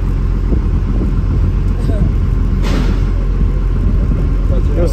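A Cummins-powered truck engine runs with a loud, steady low rumble that stays close and continuous, with light clatter and interior noise around it.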